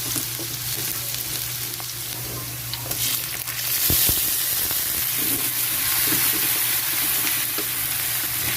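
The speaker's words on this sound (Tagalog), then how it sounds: "magigisa na pala ako. Unahin ko yung sibuyas, bawang" Onion and garlic sautéing in a hot pan for adobong takway, a loud, steady close-up sizzle and hiss with occasional stirring knocks and scrapes, no voices.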